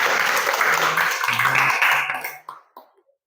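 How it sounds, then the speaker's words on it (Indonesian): A short burst of clapping from a small group, fairly close, fading out with a few scattered final claps. "Beri tepuk tangan."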